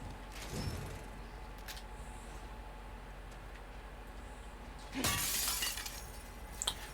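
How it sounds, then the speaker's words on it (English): A glass pane shatters in The Last of Us Part II, a sharp close crash of breaking glass with tinkling shards, heard against a quiet background with fainter impacts before and after it. "I just like to break glass, by the way."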